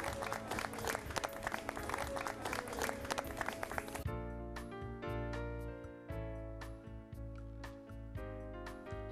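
An audience at a comedy hypnotist and magic show breaks into dense, enthusiastic applause for about four seconds, which then gives way to music with bright, ringing tones and sparse ticks.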